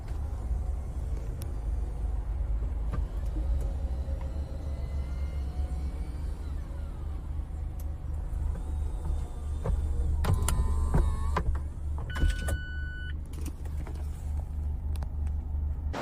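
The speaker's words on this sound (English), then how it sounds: "we can control the convertible roof" The power convertible roof on a 2019 Mazda MX-5 whirs and hums steadily as it moves, over a low idling rumble, with a few mechanical clunks and tonal motor whines toward the end and no voices.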